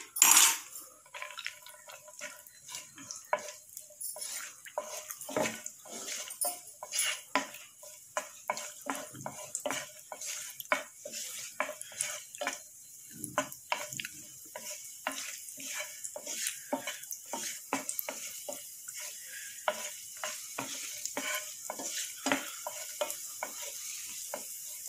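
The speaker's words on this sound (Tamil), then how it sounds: "இப்போ இந்த கோடம்பு திராட்சை வந்து இதில் போட்டு நல்லா வதக்கி எடுத்துக்கலாம்." Raisins frying in hot oil in a pan for Krishna Jayanthi aval laddu, with a light crackling sizzle and frequent clicking, rattling strokes of a spoon stirring, close up and continuous with no talk.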